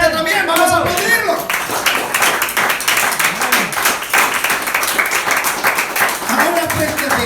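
A church congregation claps together in a steady, dense burst of applause, loud and sustained throughout, with voices mixed in beneath the clapping.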